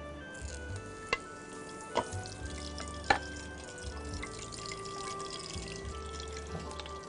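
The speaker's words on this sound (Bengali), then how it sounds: "আমার তেলটাও প্রায় গরম হয়ে আসছে, আমি এখানে তেজপাতা আছে তিন চারটা চিরে দিয়ে দিলাম।" Three or four torn bay leaves fry in hot mustard oil in a pan, giving a soft, steady sizzle with a few sharp clicks and pops, close and quiet, with no voices.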